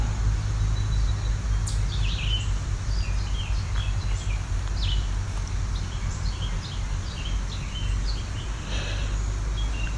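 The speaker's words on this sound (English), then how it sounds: "catch birds singing very quietly to themselves" Small birds sing quietly to themselves in late summer, their brief, thin chirps and twitters scattered and faint over a steady low outdoor rumble.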